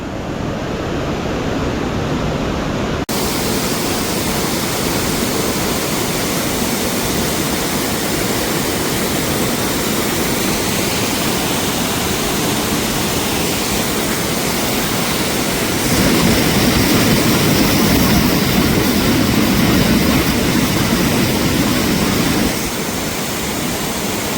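Strong water pours steadily at a village waterfall in Maharashtra, a dense continuous roar that swells louder for several seconds before easing back, with no voices over it.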